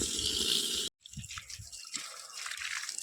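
Water running from a pipe onto garden plants outdoors, a steady hissing rush with irregular splashes, briefly cut off near the start and then continuing unevenly.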